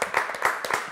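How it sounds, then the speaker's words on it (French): A brief burst of audience applause for a cabaret performer, several quick claps overlapping in a short, moderately loud patter. "Et je pense qu'on peut applaudir quand même Christopher Blyton"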